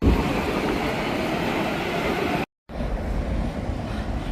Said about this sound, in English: Transfer from the bus to the subway, line A.